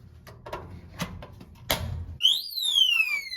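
Clicking and beeping from a gun safe's battery-powered keypad, then a loud, piercing electronic alarm tone that sweeps downward and holds, sounding close and shrill.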